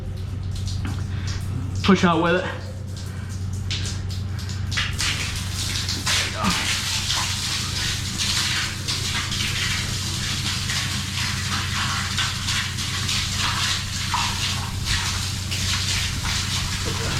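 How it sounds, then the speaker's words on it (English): Water from a hose gushes steadily into a drain basin to wash down dirt and concrete slurry, a continuous splashing rush under someone speaking briefly. "So he's gonna turn the water on."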